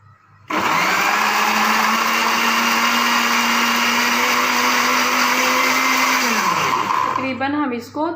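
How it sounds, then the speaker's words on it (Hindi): A mixer grinder whirs loudly and steadily as it blends fruit juice ingredients with half a cup of water, running continuously for several seconds before winding down with a falling pitch near the end. "अब हम इसको अच्छी तरह से ग्राइंड करते हैं।"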